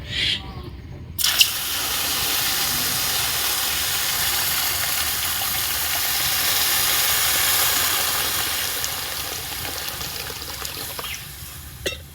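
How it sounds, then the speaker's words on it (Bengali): Water is poured onto moong dal that was fried until reddish, setting off a loud, sustained hiss and rushing sizzle that starts abruptly after a brief pause and settles slightly near the end. "ডালটা কিন্তু একটু লালচে করে ভেজে নিয়েছি এখন সিদ্ধ করার জন্য জল দিয়ে দেবো"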